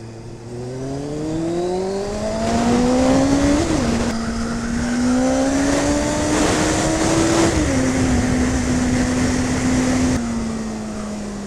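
A 2001 Kawasaki ZX6R motorcycle running on a test ride after a spark plug change, its engine steady and loud with rising and falling revs as it shifts through gears, alone with no talk.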